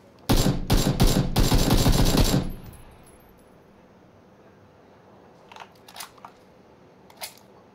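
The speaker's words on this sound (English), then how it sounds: "Shooting." PUBG game gunfire: a loud, rapid burst of automatic shots lasts about two seconds and stops abruptly, followed by a quiet stretch and a few fainter, scattered shots.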